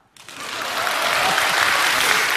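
A lecture audience bursts into applause during a speech by Di Dongsheng; after a brief pause the clapping swells quickly into dense, steady, sustained applause that fills the room, with no voices over it.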